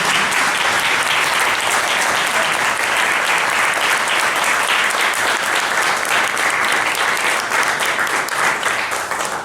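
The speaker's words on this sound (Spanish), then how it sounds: "Le dan un aplauso al profesor Julio." Sustained audience applause for a professor at a lecture on the apocryphal gospels, dense and loud clapping from a full room that holds steady before tapering slightly at the end, with no talking.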